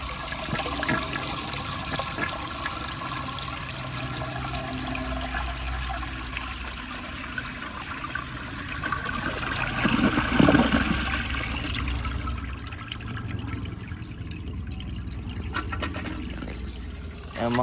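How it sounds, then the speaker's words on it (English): A 1959 American Standard one-piece toilet with an overfilling tank is flushed from the side, a long loud rush and gurgle of swirling water that slowly settles into a trickling refill. "So I'm gonna kind of give you all a side flush here."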